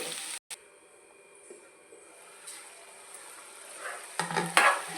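Grated carrot and beetroot fry in a pan, a soft steady sizzle with scraping stirring and a few clinks of a utensil against the pan, busier near the end.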